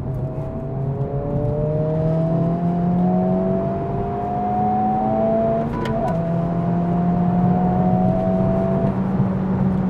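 A 2024 Honda Civic Type R engine heard from inside while driving, a steady droning hum whose pitch rises through the gears with a brief dip at a shift, continuous and fairly loud.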